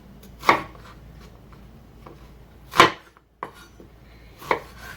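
Knife chopping shallot into fairly big pieces on a cutting board for Thai tom yum goong, four or five sharp, separate thuds spaced a second or more apart against a quiet background.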